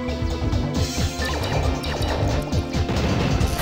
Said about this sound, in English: You have succeeded in destroying the shield generator.